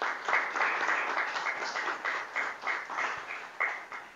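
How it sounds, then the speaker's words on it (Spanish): Audience applause at a book presentation in the Ateneo de Granada, a moderate patter of clapping from a smallish crowd with uneven swells, fairly quiet and heard alone. "le pido un aplauso"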